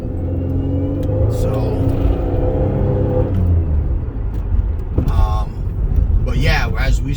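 A Buick Regal GS V6 with a manual transmission runs steadily through the gears, its low engine rumble constant throughout, with a person talking over it.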